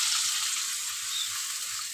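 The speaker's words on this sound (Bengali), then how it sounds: "আলু ফুলকপি আমার ভাজা হয়ে এসছে। এখন আমি পরিমাণ মতো জল দিয়ে দেবো।" Potatoes and cauliflower frying in a pan with a steady, close hissing sizzle that continues evenly throughout, with no voices.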